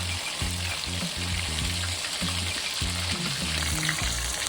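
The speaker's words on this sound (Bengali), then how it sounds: "এবার উল্টে পাল্টে ভালো করে মুড়োগুলোকে ভেজে নেব।" Rohu fish heads fry in hot oil in a wok, giving a loud, steady sizzle that runs without a break. A low, rhythmic musical beat pulses underneath.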